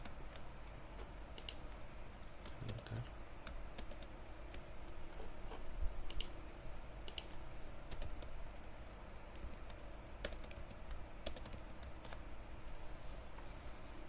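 Scattered, quiet computer keyboard key presses, including a few sharper clicks of the enter key, tap at irregular intervals over a low steady background hum.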